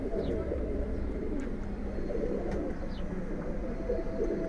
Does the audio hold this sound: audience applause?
no